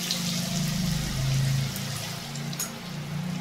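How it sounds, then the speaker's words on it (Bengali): Bitter gourd pieces go into a pan of hot oil and set off a continuous bubbling hiss, close and fairly loud, lasting a few seconds without any speech. "এবার আমি আবার বাকি কিছুটা করলা এর মধ্যে ছেড়ে দিচ্ছি।"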